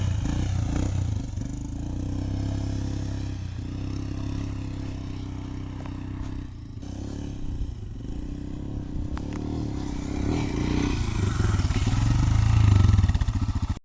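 A Royal Enfield Himalayan motorcycle rides an off-road trail, its engine a steady close low thrum with rattles and scrapes, building to a louder rev near the end.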